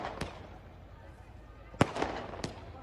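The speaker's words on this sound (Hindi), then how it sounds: "पटाखे चला रहे हैं" Firecrackers burst in sharp separate cracks during a street celebration in Kashi, three or four distinct pops spaced irregularly at moderate distance over a low crowd murmur.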